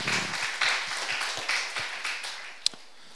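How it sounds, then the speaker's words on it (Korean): Church congregation giving a round of applause during a worship service, a brief burst of many hands clapping in a loose rhythmic pattern that fades toward the end. "우리 하나님께 영광의 박수를 더 아름답게 올려드립시다"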